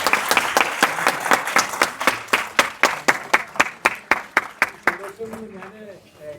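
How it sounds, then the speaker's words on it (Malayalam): A theater audience claps in a fast, even rhythm that fades after about five seconds, when voices rise underneath. "അങ്ങനെയാണെങ്കിൽ എല്ലാവരും ക്ലാപ്പ് ചെയ്ത്"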